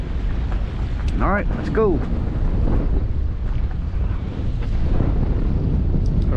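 Strong wind buffets the microphone on a fishing boat out flounder fishing, a loud continuous roar and rumble that runs through the whole stretch while someone speaks briefly near the start.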